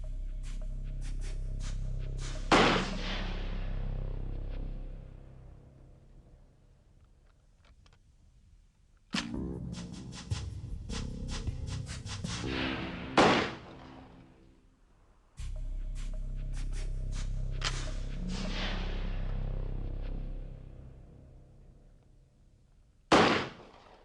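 Hunting shotgun firing round ball slugs at a target, sharp loud blasts in a spaced sequence, each followed by a long ringing, rattling decay, no talking.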